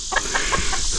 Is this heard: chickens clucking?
yes